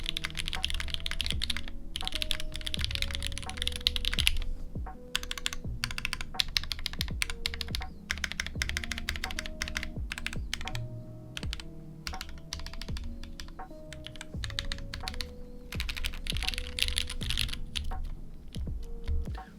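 Rapid clacking of a Percent PT990 65% mechanical keyboard being typed on continuously, crisp and close, with soft music playing underneath.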